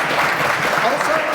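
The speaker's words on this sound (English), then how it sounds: "Big round of applause, please" A conference audience applauds at the close of a talk on stealth web scraping for OSINT, a steady, fairly loud roar of clapping with a faint voice mixed in beneath it.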